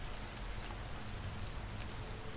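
Rain falls in the survival game The Forest, a steady dense hiss with faint scattered drop patter, alone and unbroken.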